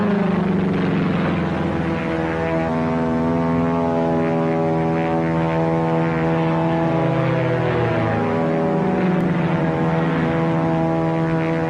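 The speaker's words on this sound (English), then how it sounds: "Now look at that plane. That's no Zero, that's a P-40." A WWII P-40 fighter plane drones loudly overhead, its propeller engine producing a steady, layered roar with a slowly shifting pitch as it passes, with no voices.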